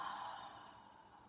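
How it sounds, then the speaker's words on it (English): A long, breathy exhale during a morning yoga flow, a single soft, airy yawn-like sigh that fades gradually, close and quiet with no speech. "you can fake that yawn"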